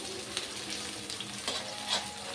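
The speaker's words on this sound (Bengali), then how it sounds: "দিয়ে পেঁয়াজটা ভালো করে নাড়ব।" Onions sizzle steadily as they fry in oil for chicken biryani, with faint scrapes of a spoon stirring them in the pan and no voice.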